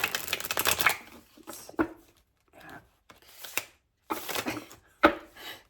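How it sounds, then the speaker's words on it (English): Several bursts of playing cards being shuffled by someone with long nails, crisp riffling rattles separated by short pauses, close up with no talking. "to shuffle cards with these long ass nails"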